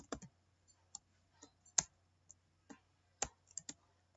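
A computer mouse gives a series of sharp, single clicks at irregular intervals, faint and close in an otherwise quiet room.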